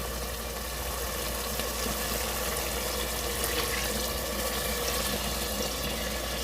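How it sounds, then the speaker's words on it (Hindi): Water pours steadily into a pot of browned taro root and meat curry cooking on the stove, a continuous broad rushing and sizzling wash at close range with no talk. "अब हम अपने पानी डाल के अरवी को गलाते हैं।"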